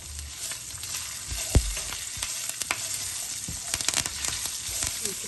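Green chillies sizzle in hot oil with curry leaves and asafoetida as a tempering for beetroot curry. A steady close frying crackle runs throughout, with a few sharper pops and spatters and no talking.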